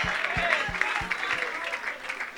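A worship crowd bursts into applause and cheering for Jesus during an evangelical healing meeting, a brief burst of clapping under a raised voice and background noise.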